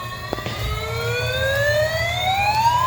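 A red knockoff toy fire truck's electronic siren wails with a steadily rising pitch, loud and close, layered over a low buzzing hum from the toy's small speaker.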